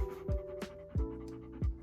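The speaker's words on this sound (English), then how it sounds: "Penny, I'm trying to film a video and your panting is so loud." A pet dog pants loudly and close by in a quiet room, rapid rhythmic breaths broken by a few sharper exhalations, with no talking.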